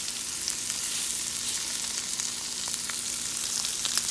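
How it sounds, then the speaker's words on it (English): Flounder fillets fry in a pan with a steady close sizzle, dense crackling spitting throughout, with no talking. "So I'm gonna go get the fish cooking"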